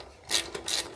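Close metallic ratcheting as a wrench turns a 10mm bolt on the air filter box of an old farm motorbike, two short grinding bursts within a second.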